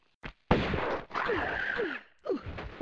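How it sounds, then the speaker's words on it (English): Shotgun blasts in the Tomb Raider video game: three loud, booming discharges with sharp attacks and sustained noisy tails, the second longest, separated by brief gaps, with no talking. "Get out the shotgun."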